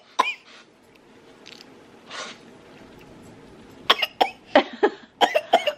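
A woman coughs repeatedly in a short burst of several close, sharp coughs after a quieter stretch, with a faint earlier cough.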